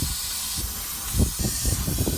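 A rust-proofing spray gun fed by a hose nozzle sprays onto a vehicle in a steady loud hiss, with a few low thumps and bursts partway through and no talking.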